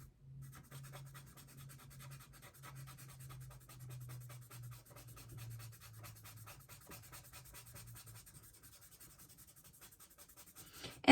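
Charcoal pencil scratching across paper while drawing hands, a dry, close, continuous rasp of strokes with a faint low hum beneath for most of it, ending in a sudden loud knock.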